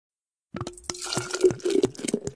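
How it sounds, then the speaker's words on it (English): Water is poured into a cooking pot in a kitchen, a short run of splashes, plops and gurgling fill sounds after a brief silence, close and fairly quiet, with no talking. "Then add the water to the pot."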